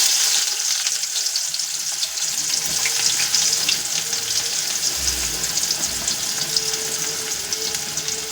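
Onions sizzle in hot oil with cumin seeds, a steady bright hiss that fills the whole stretch, with a few soft spatters and low bumps from the pan; no speech.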